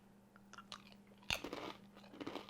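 Crunchy rice crackers spread with nut butter bitten and chewed up close, a sharp loud crunch of the bite followed by softer crackling chews over a faint steady hum.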